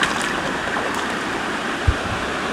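Creek water flowing where two creeks merge on rural California acreage, a steady outdoor wash of running water with wind, continuous and fairly loud, one brief low thump partway through.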